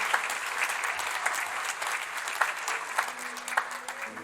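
A church congregation applauds during a sermon, a steady wash of many hands clapping at moderate distance, with a few sharper claps standing out and a faint voice or tone toward the end.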